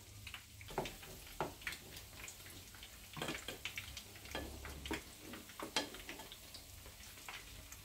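Bread fritters made from stale bread fry in hot oil while being turned. A faint, steady sizzle runs throughout, with soft scattered clicks and taps as the pieces are flipped.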